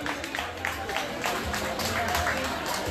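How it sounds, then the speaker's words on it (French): Festival audience at a university event applauding steadily, a dense wash of clapping with crowd murmur underneath, moderately loud throughout. "On applaudit A, comme je les appelle Miss Plastique."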